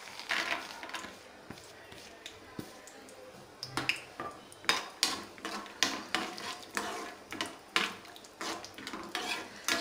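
Cashews lightly frying in a pan for leftover-chapati laddu, a soft background sizzle under rhythmic clicking and scraping of a spoon against the pan that grows more regular toward the end, close up with no talking.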